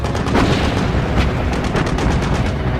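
Anti-aircraft gunfire during a night air raid over Truk Lagoon, a loud, dense rumble of rapid bursts and booming shots rolling continuously without pause.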